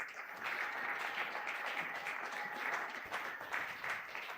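A church congregation at a Sunday worship and thanksgiving service applauds loudly, a steady dense wash of clapping that holds for several seconds without a break.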